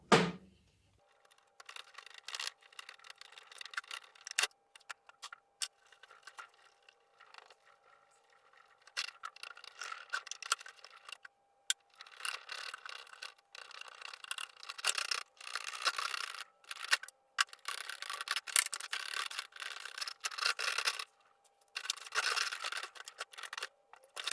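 Polishing compound is rubbed by hand onto a plastic vacuum cleaner part in close, intermittent bursts of soft scrubbing friction, separated by short quiet gaps, with a faint steady hum underneath.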